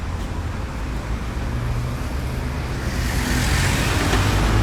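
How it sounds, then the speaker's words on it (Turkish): Cars and road traffic on a busy street in Üsküdar, Istanbul, a continuous rumble of engines and tyres swelling louder toward the end as vehicles pass close by. "Tabii şey arabalar izin verirse korkunç bir trafik var."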